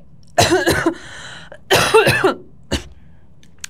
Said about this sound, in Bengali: এতবার কাশি দিচ্ছি, তোমাদের ডিস্টার্ব করতেছি